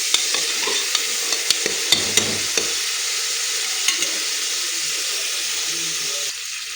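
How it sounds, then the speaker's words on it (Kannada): Spices, coriander and mint frying in oil for egg biryani make a steady close sizzle, with sharp spoon clicks against the pan during the first few seconds and no talking. "ಚೆನ್ನಾಗಿ ಫ್ರೈ ಮಾಡ್ಕೊಂಡಿದ್ದೀನಿ."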